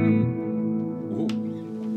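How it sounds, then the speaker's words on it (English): Electric guitar played through a Positive Grid Spark 2 amp with delay and ambient reverb, a sustained chord ringing out with a lush, echoing tail and a brief pick scrape partway through. "We can add some reverb."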